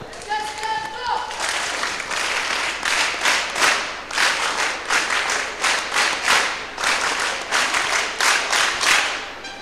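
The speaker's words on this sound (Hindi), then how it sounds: "उनके लिए तालियां।" Sustained audience applause in an indoor gathering, many hands clapping densely and steadily for nearly ten seconds with rhythmic swells, loud and close, with no talk over it.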